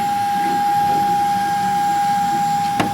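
Vacuum extraction pulling dust during CNC milling: a loud, steady roaring suction with a sustained whine, unbroken throughout and ending with a brief click.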